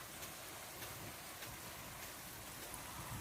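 Rain falls steadily over an apple orchard under netting, a faint, even patter with no voices.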